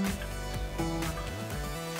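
Guitar playing a riff, a short run of low plucked notes stepping through the familiar line, steady and fairly quiet with a full tone and no voices.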